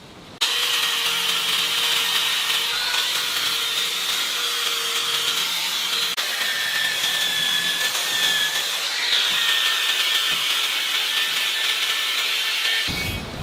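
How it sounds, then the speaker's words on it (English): Sanding an old alloy wheel rim from a Mercedes-Benz W116 produces a loud, continuous abrasive whine and hiss. It runs steadily for the whole stretch with no talking. "obviously I need to do more sanding"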